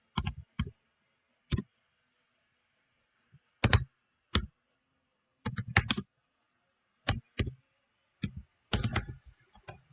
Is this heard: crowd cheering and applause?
no